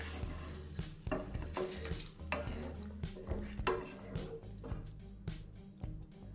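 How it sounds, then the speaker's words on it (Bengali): A spoon stirring vegetable pulao of rice and water in a pan, with soft scrapes and clinks repeating irregularly at close range, fairly quiet overall. "নেড়ে দেব।"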